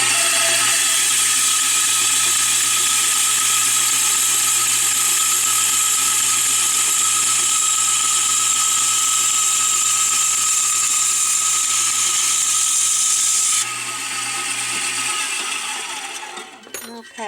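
A mini bandsaw cuts through silverware, giving a steady, loud whirring buzz with a constant hum that runs unbroken for most of the stretch before abruptly dropping off near the end.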